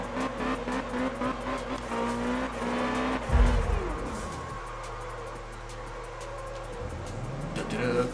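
A car in the video game Absolute Drift slides through a big drift with sustained tire squeal over a droning engine that rises and falls as it powers through the turn.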